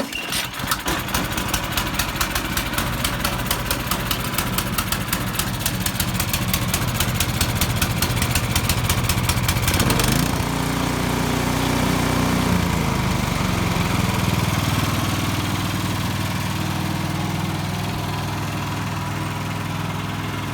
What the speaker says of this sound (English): Let the engine run for a minimum of 5 minutes.